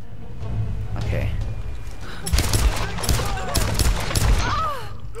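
Bursts of rapid gunfire in the video game Tomb Raider, several sharp volleys crackling in quick succession after a quieter stretch, loud and close, mixed with game sound effects.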